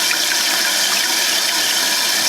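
A toilet tank refills through a newly replaced fill valve, giving a steady, loud, close rush and hiss of running water with no pauses and no voices.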